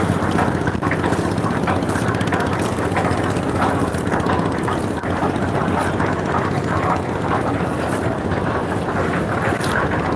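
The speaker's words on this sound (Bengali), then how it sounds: "ভালোই লাগে এই ঢেউয়ের ভিতরে আমাদের নৌকাটা দুল খাচ্ছে" A boat rocks on the waves of the Buriganga river, with a steady, close rush of wind and water noise and a low rumble running unbroken throughout.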